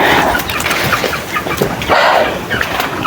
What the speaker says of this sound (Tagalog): Ang dami mga manok dito